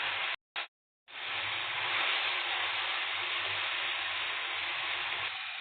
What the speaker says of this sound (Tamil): இப்போ புதினாவும் கொத்தமல்லியும் சேர்த்து நல்லா வதக்கி விட்டுக்கலாம்.